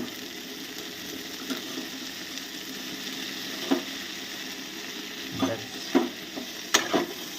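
Mustard paste is stirred into fried vegetables in a pan over a soft background sizzle, with a spatula scraping and clicking against the pan in scattered strokes.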